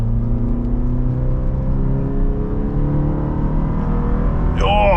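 A Toyota Tacoma SR5 with a 2.7-liter engine drones loudly and steadily as it revs and pulls in a test drive, a continuous close engine hum with a brief whine near the end.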